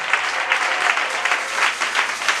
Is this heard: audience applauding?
yes